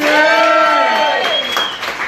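An audience claps at a live spoken-word and music event, sustained applause that holds loud and then eases slightly, with a tonal musical sweep ringing over it.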